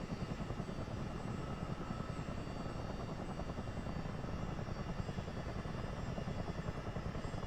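Chinook tandem-rotor helicopter taxiing in Microsoft Flight Simulator 2024, a rapid, steady rotor chop over a whining turbine drone, constant and fairly quiet with no talking.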